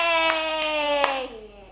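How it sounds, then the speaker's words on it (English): Three sharp hand claps ring out at a steady pace over a sustained voiced tone during a children's game of Simon Says. "Yeah, and clap."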